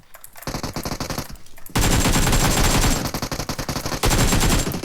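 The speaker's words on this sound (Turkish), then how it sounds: "Bana kim sıkıyor lan?" Rapid automatic gunfire from the battle royale game PUBG Mobile on the Livik map comes in loud, continuous rattling bursts with brief gaps between them. The shots are close and fill the whole clip, with no talking over them.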